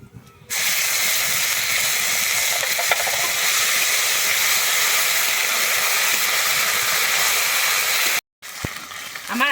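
Steady, loud sizzling of ginger and green chili paste frying in hot oil, a continuous hiss that cuts off briefly near the end.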